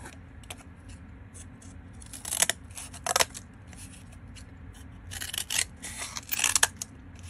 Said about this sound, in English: we're going to cut out with scissors our beard template to be the same size as